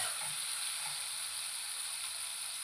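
Something fries gently in hot oil with a soft, steady sizzle that runs unbroken, fairly quiet and close, with no voices.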